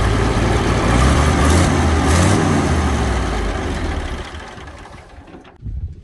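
A Farmall 263 gasoline tractor engine idles steadily and close by, a dense low rumble that holds for several seconds before easing off and cutting out near the end.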